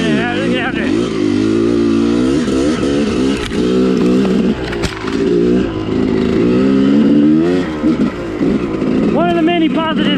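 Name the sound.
motorcycle engine running after carburetor fix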